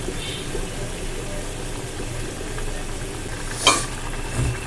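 Button mushroom curry bubbles on a high gas flame, giving a steady rumbling simmer with a soft burner roar beneath and one sharp clatter near the end.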